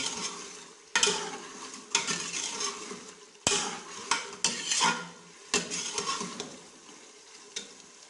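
Mutton tripe (ojhri) sizzling in a pot while a metal spoon stirs and scrapes it, repeated clattering strokes roughly every second over a steady close frying hiss, no talking.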